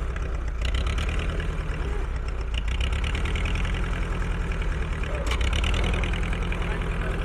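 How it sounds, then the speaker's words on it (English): A tractor engine idles steadily with a low, even chug while tractors are pulled out at a farm auction, the running continuous and fairly close throughout. "Doc is pulling these tractors out"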